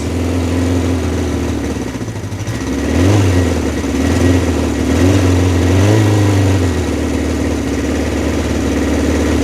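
A classic motorcycle engine running on choke while warming up, held around 2000 RPM, idling close and loud with a lumpy, uneven beat and a few swelling revs partway through.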